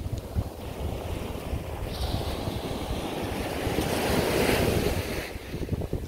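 Surf rolls in continuously at high tide on Mambucabinhas beach in Barreiros, southern Pernambuco, Brazil, a rough, broad wash of breaking waves mixed with gusts of wind noise on the microphone, with no voices.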